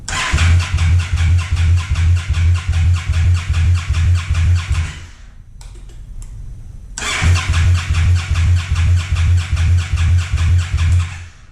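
A Scout motorcycle engine cranks over in a loud, even, pulsing rhythm to depressurize the fuel system. It stops briefly, then cranks again in a second long burst, with no voices.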